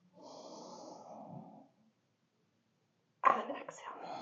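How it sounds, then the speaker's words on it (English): A single deep inhaling breath during a yoga flow, soft and close for about a second and a half, then silence before a sharper breathy sound. "Inhale."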